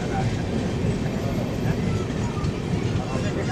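The 12353 Lal Kuan Express rolls along at speed, heard from inside a 3E coach as a steady, dense rumble that holds level throughout.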